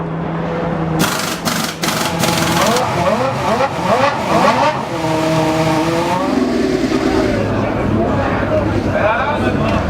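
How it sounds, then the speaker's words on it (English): Formula 1 race cars roar past at Goodwood, several loud passes with rising and falling engine pitch, dense at first and then thinning into a more distant whine, with voices mixed underneath. "So that was the F1 cars."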